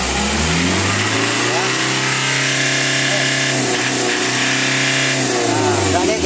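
A diesel engine with a poorly set tune runs with a coarse, rough tone. It is revved up and held, then eases back, loud and close throughout, while someone speaks briefly over it.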